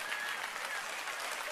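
A congregation claps during a church sermon, producing a short, even wash of applause with no talking over it.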